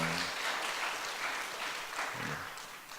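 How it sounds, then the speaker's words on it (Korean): A church congregation at a Wednesday service claps to welcome a speaker, a broad even applause from a hall that slowly fades, with a brief voice murmuring near the end. "박수로 환영해 주십시오."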